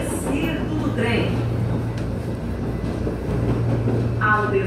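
São Paulo metro train standing at a station, a continuous low rumble and hum of the carriage with occasional squeaks and a recorded announcement voice over it.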